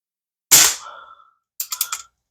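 Crosman 1377 pump air pistol firing an Apolo domed pellet, one sharp close crack with a brief ringing tail, followed by a quick series of light clicks from handling the gun.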